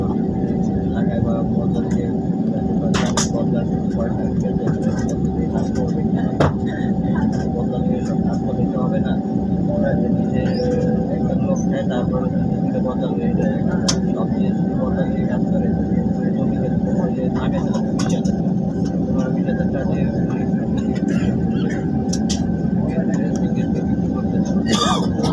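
Inside an airliner cabin during takeoff, the engines make a steady, loud roaring drone throughout, with muffled voices heard faintly over it.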